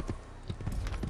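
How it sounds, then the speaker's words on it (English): Horse hooves clip-clop at a trot in the Assassin's Creed video game, a quiet, even rhythm of hoof beats with no speech. "Let me mount this horse."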